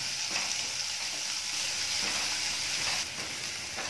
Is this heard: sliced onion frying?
yes